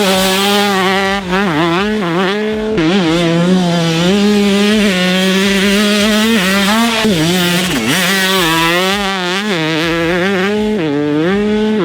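A 2003 Kawasaki KX144 two-stroke dirt bike engine revs loud and close, its pitch rising and falling in repeated throttle blips with a sharp, buzzing ring.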